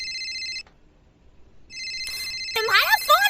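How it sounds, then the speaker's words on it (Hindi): An electronic phone ringtone sounds in bursts, breaks off into a short silence, then comes back as a young voice begins talking over it. "तुम्हारा फोन बज रहा है।"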